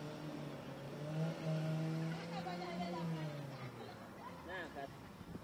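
A Volkswagen Gol driving along a road, its engine droning steadily with the pitch rising and falling, close and fairly loud with road noise beneath.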